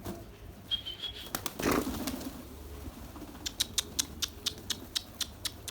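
Pigeons in a backyard loft, with a burst of wing flapping early on, then a series of regular clicking taps or soft calls repeating near the end over faint background noise.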